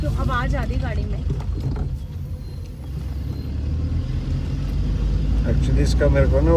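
Tata Tigor car on a rough off-road mountain track near Mussoorie, a steady close engine rumble with knocking and rattling from the body, while people talk over it throughout.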